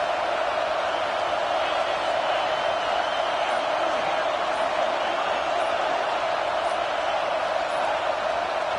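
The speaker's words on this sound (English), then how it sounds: "Listen to this crowd just shaking the girders of this place" Roaring crowd filling an American football stadium during a game, a loud, dense, sustained wall of cheering and noise with no breaks, heard from within the stands.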